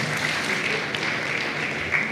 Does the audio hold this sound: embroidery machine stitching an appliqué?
no